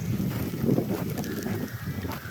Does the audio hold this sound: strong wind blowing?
yes